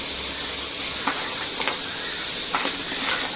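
Washed chicken dropped straight into a hot kadai with no oil gives a steady, close broadband sizzle and hiss, broken by a few faint crackling pops.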